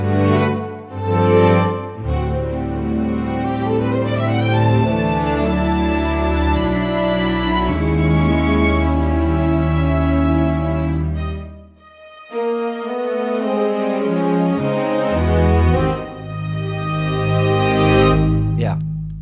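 SWAM string sections playing fast sixteenth-note figures without a click track, dense and loud, with shifting dynamics and a brief dip midway before the lines continue.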